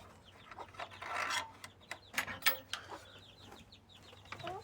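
A blue hen in a backyard poultry coop gives scattered, soft clucks amid rustling and scraping sounds, faint and close, with irregular bursts and pauses.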